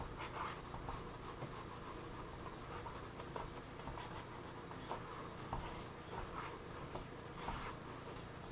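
Wet sanding of sprayed latex paint, a steady close rubbing and rasping of sandpaper on the painted surface that runs continuously with small scratchy bursts.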